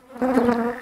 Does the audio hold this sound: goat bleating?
no